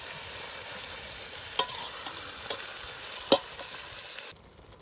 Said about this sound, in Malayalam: കുറച്ച് തക്കാളി ഇട്ട് കൊടുക്കും. നല്ലോണം പച്ചമണം മാറി വരുന്നത് വഴറ്റിടുക.